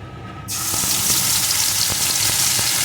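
Spice paste mixed with yogurt hits hot oil with panch phoron and erupts into loud, steady sizzling frying that starts abruptly after a brief quiet moment, with faint stirring clicks underneath.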